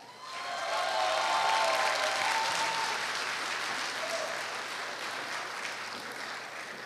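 Sustained applause from an audience at a Korea University alumni joint choir festival as the 87 class choir is welcomed, loud and dense from the start and easing slightly toward the end with no talk over it.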